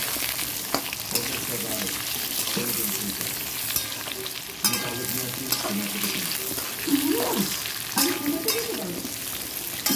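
Potatoes hit a pan of fried onions seasoned with salt and turmeric and fry with a steady close sizzle, broken by scraping stirs and a few sharp clinks.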